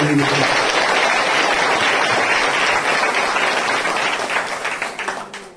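A large audience at a religious sermon gives loud, dense applause that holds steady, then thins and fades away over the last second or so.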